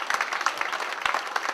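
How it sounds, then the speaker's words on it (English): Short burst of audience applause at a tribute evening for West Indian WW2 veterans, honouring a chemical engineer and rocket scientist; steady clapping from a moderately distant crowd with a few sharper claps standing out. "a round of applause to a rocket scientist"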